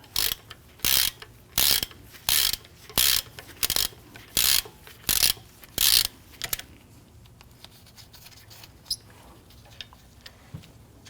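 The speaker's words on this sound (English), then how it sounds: "Simply use a pair of pliers to grab the remainder of the stud and unthread it." A brake rotor stud on a 2013-2019 Ford Police Interceptor Utility is twisted out with pliers, giving about nine close, even rasping clicks in a steady rhythm, followed by quieter scattered scrapes and handling noises.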